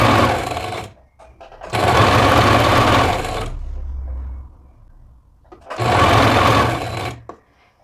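A sewing machine runs a 2.5 stitch around the full circumference of a fabric hem, in two long loud bursts of steady whirring separated by a quieter pause with some handling noise.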